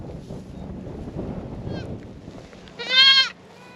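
A goat bleats once, loud and close, with a wavering harmonic cry near the end over low outdoor background noise on a Texas farm.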